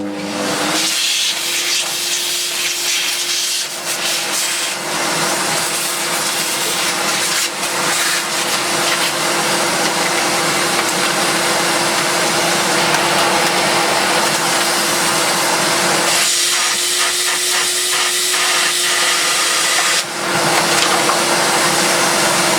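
Dyson DC50 vacuum cleaner running loud and close, a steady high whine with a constant tone. Rough, shifting airflow and rubbing noises come and go, and the motor briefly drops out around two points before it resumes.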